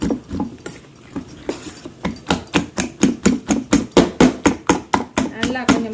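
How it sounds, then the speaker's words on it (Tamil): Eggs are beaten by hand in a bowl for an egg dish: quick, evenly spaced strokes start after a soft opening and build into a steady, close rhythmic tapping. "இப்படி அடித்த உடனே முட்டை நல்லா ஃப்ளஃபியாக வரும்"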